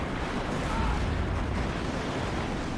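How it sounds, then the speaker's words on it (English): Artillery shells pounding a building in the WARNO wargame, a dense continuous rumble of blasts and low booms with no clear gaps, loud and sustained throughout. "Yep, artillery is coming down this building."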